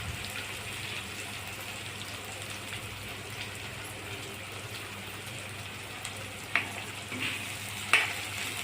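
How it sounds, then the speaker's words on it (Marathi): Green and red chillies sauté with onion in a pan, giving a steady soft sizzle and frying hiss, with a couple of brief spatula scrapes or clinks near the end. "कांद्यासोबत मिरची पण परतून घेणे"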